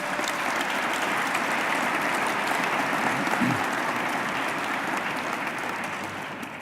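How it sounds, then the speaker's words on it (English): Luncheon audience of the Association for a Better New York applauding, a broad sustained wash of clapping that holds steady across the room before easing off slightly near the end. "Let's give them a round of applause."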